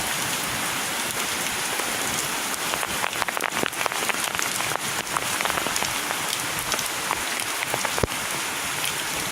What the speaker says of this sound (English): Well, it's storming now.